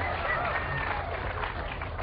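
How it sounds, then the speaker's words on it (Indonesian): A studio audience at an Indonesian television world-record ice-cream-eating show claps in a steady, dense wash of applause, loud and continuous with some crowd noise mixed in. "Kita kasih tepuk tangan dulu untuk Arizali dan juga Rahmat."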